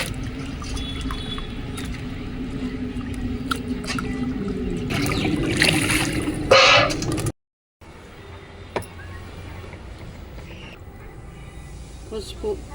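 Water trickles and splashes steadily while fish is rinsed by hand for an Andhra-style fish curry, with continuous close washing sounds, a sudden brief cutout, then softer running water.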